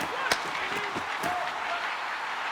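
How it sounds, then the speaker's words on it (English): Broadband arena crowd applause and cheering fills an NHL 26 hockey video game, including an AHL San Jose Barracuda game, a steady, dense wash of noise with a few sharp claps or slams and faint whistle-like tones. "Here in the later stages of this period, you can feel the energy in this crowd."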